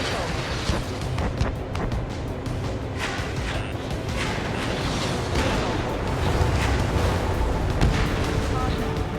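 Missile explosions and combat blasts in the jet fighter game Ace Combat 7, a dense continuous rumble of booms and crashes with no clear gaps, loud throughout, with radio chatter mixed in.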